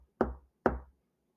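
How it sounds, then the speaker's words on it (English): Two low, soft knocks land on a chamber door, evenly spaced about half a second apart, each a dull thud followed by silence. "a low knock at my chamber door fell upon my ears"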